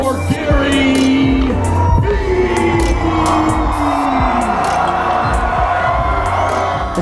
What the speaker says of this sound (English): a round of applause for Gary.